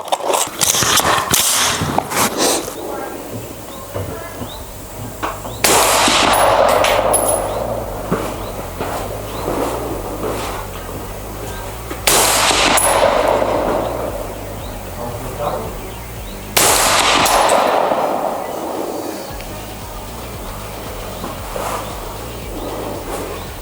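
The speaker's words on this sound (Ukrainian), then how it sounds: "Тобто 5 пострілів ми зробили" Three loud shots from a Daniel Defense rifle firing 55-grain ammunition at targets on a range, spaced several seconds apart, each a sharp crack with a trailing outdoor echo over steady background noise.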